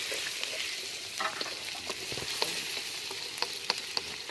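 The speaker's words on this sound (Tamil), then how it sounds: "தக்காளி நல்லா நம்ம வதக்கிட்டு இருக்கோம்." Tomatoes sautéing in a pan over an outdoor cooking fire, a faint steady sizzle broken by scattered scrapes and clicks of a stirring spoon.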